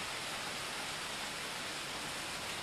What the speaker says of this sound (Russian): у нас сейчас 80 километров от Москвы, реально льет